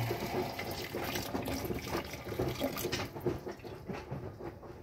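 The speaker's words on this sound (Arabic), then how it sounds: "هنحط الميه المغليه" Boiling water poured into a clogged household drain after a cleaning product, a steady pouring, gurgling rush of liquid close by that lasts throughout and thins out toward the end.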